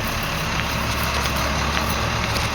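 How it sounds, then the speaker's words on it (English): A tow truck arriving in winter: a continuous low engine rumble and hiss close by, steady and unbroken for a few seconds with no voices over it. "Well, the tow truck's here."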